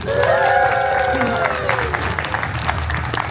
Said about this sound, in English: Mandatory applause cue.